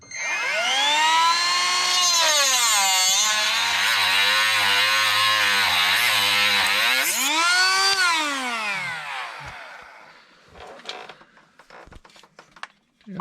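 A power tool cuts through a seized bolt on the automatic transmission oil pan of a Jeep Wrangler JK. A loud, close, whining tone rises and dips in pitch for about eight seconds, then fades into scattered clatter.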